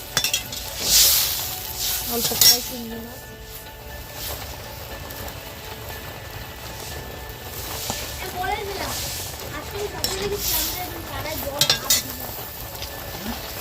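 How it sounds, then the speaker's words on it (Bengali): Fried fish in a pan sizzling after water is poured in, a steady hiss with scraping and stirring clatter, heard during a rainy-season power cut while someone talks over it throughout. "মাছটা ভাজা হয়ে গেছে এবার জলটা দিয়ে দিলাম"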